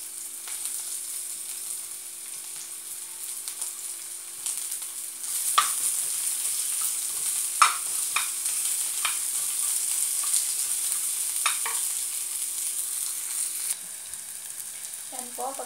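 Onion and garlic sizzle steadily in hot oil as they sauté for adobong kangkong. The frying hiss carries on throughout, with occasional sharp crackles and spatters.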